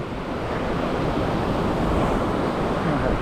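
Ocean waves crashing at Kata Noi beach in Phuket, Thailand, a loud unbroken roar of surf with wind buffeting the microphone, close and filling the whole stretch without voices.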